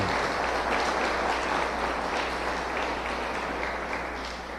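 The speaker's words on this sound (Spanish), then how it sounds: "¿No creen que deberían darle un buen aplauso al Señor?" A church congregation breaks into loud, sustained applause, a dense steady wash of many hands that stays strong throughout and eases off slightly at the very end.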